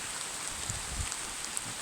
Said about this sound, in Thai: บรรยากาศฝนตก ยามท้องไร่ท้องนา